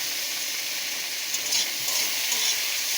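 Chopped tomato and green chilli sizzle in hot oil with onion in a pan, a steady bright frying hiss with light stirring scrapes, close and continuous, no voices.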